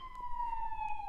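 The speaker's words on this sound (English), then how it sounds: "sorry for the sirens," A distant police siren wails in a slow, descending sweep, faint and steady with no talk over it.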